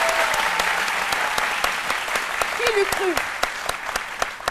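Applause from a studio audience on a television talk show, sustained and fairly loud with crisp individual claps standing out, while a person speaks briefly over it.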